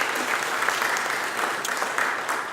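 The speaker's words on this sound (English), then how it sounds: "Give her a round of applause." Brief, steady applause from an audience at a bail reform announcement, dense clapping throughout with no speech.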